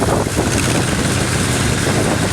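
A 1955 International Harvester 300 tractor drives past in a farm power parade, its engine a loud steady drone with heavy wind noise, no talk over it.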